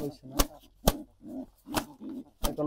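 Pigeons coo close by in a rhythmic series of low, throaty coos, with sharp clicking sounds between them.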